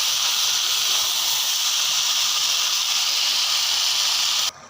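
Broth poured into a hot pan of dried fish curry with jackfruit seeds and potato gives a loud, steady sizzling hiss that holds evenly for several seconds and then cuts off abruptly.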